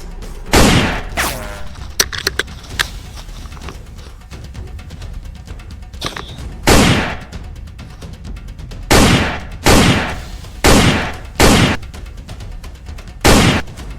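Gunfire sound effects in a rural Awadhi comedy skit with a police chase: loud, sharp shots in spaced bursts, some single and some in quick pairs, standing alone with little talk.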